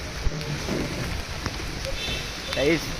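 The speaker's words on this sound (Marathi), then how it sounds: "चांगलाच पाऊस चालू झाला" Steady rain patter fills the scene, with people talking and calling out over it, a sharp knock near the start.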